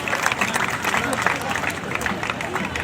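A crowd at a Haryana election rally claps loudly in support of women's strength, a dense, continuous burst of applause with a hint of crowd murmur beneath, lasting around three seconds.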